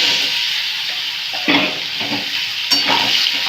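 Mango pieces coated in turmeric and salt fry in hot oil with dried red chilli and five-spice seeds, giving a loud, close crackling sizzle broken by a few scraping stirs.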